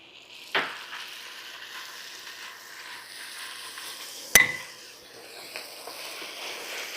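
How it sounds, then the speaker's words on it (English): Three garlic cloves hit a hot frying pan of green beans for Lebanese-style green beans, giving a steady soft sizzle with a sharp clack near the start and another in the middle, no voices. "At this point, I like to add my garlic. In this case, I'm adding 3 cloves of garlic."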